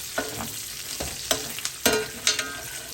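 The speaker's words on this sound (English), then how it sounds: "we just want to get this nice and crispy. You want to pretty much render down all that fat." Bacon sizzles over a fire as its fat renders down toward crispness, a loud close hiss punctuated by several sharp scraping stirs of a utensil against the pan.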